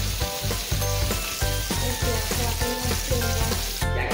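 Bocachico fish fries in very hot oil with a loud, continuous crackling sizzle close by, with faint stirring or clinking under the bubbling.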